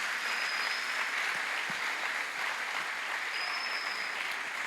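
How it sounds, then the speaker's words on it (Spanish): A church congregation gives steady applause during a sermon with a guest preacher, a dense, continuous wash of clapping from many hands at an even level throughout. "¿Qué te parece si le damos un fuerte aplauso a nuestro Dios misericordioso que siempre nos recibe en casa?"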